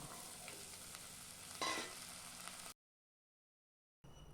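Fresh turkey berries (sundaikai) are stirred into a pan of onion and garlic frying in oil, with a soft steady sizzle and a brief louder burst of sizzling when something is added, then a short silent gap.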